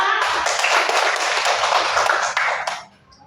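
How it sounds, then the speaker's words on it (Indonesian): Hand clapping from a classroom group during an Islamic religious education lesson, a dense burst of many hands for nearly three seconds before cutting off into near silence. "sekalian, tepuk tangan dong"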